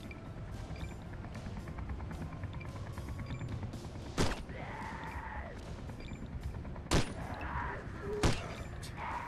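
Gunshots in the survival horror game ZombiU, three sharp cracks spaced a few seconds apart over a constant low rumbling background, loud and close.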